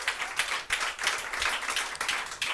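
An audience claps through a short burst of applause at a women's football sponsorship launch. The claps sound close and dense, with uneven strikes and no voices over them.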